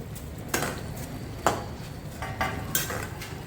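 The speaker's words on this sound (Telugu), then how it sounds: "ఈ సేమియాని మొత్తం ఇందులో వేసుకోవాలి." Semiya vermicelli goes into a pot of boiling water on the stove, heard as soft, faint clinks and scrapes of a utensil against the pot, several separate taps over a low simmering bubble.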